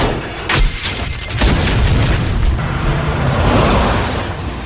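A bomb goes off aboard a train in a film scene, with a sharp loud blast followed by a sustained roaring, crackling rumble of debris and fire that fills the space without letup.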